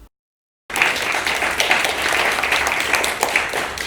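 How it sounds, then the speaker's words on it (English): Polite applause from an audience at a church oral history showcase starts abruptly after a brief silence and continues as steady, fairly loud clapping from many hands. "That was nice, polite applause."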